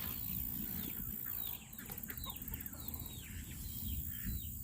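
Chickens cluck repeatedly in a chicken house beside a garden, soft, scattered calls over a steady low rumble of background noise, with no talking.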